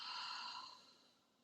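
A single soft exhaled breath during a Pilates exercise, a gentle airy sigh that fades out over about a second, close and quiet.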